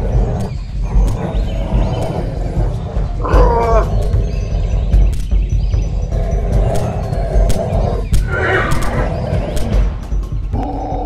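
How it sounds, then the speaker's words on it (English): Prehistoric horses and dire wolves clash in a Pleistocene North American chase, heard as loud, close growls, snarls and shrill whinny-like cries repeating over a dense, rumbling rush of movement. "Dire wolves chasing a bachelor group of Hippidia, a prehistoric horse that inhabited North America in the Pleistocene."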